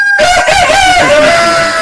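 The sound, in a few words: Light Sussex chickens crowing and clucking on a hen farm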